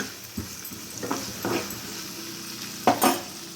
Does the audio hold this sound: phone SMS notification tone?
no